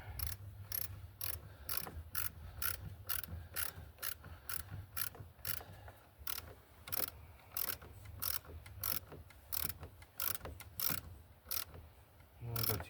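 A ratchet tightens 10 mm bolts on a 2006 Dodge 1500, its rapid rhythmic clicking repeating in short bursts close by, with quieter mechanical rattles beneath.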